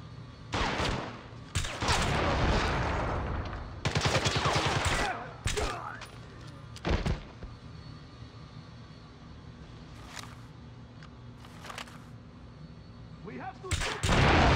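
Rapid gunfire bursts and shots from the PC video game James Bond 007: Blood Stone, loud clustered volleys with explosive impacts and quieter pauses between, mixed with in-game voices shouting.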